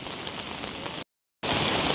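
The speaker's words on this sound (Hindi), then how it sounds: "तो अभी हल्की हल्की बारिश हो रही है, थोड़ी थोड़ी सी।" Light rain falling outdoors by a farm field, a steady soft hiss of drops that cuts out briefly in the middle and then returns.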